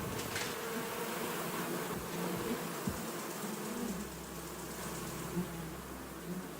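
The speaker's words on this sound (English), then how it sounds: "Those are my bees." Bees buzz in Kingdom Come: Deliverance II, a soft, steady drone under faint ambient game sound, with a low hum coming in partway through.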